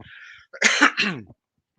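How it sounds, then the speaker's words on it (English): A short cough burst, close and fairly loud, following a brief soft noise, then quiet. "I'm going to cough."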